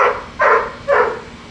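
A dog gives two or three loud, close barks in quick succession in a backyard garden, each a short burst with brief pauses between.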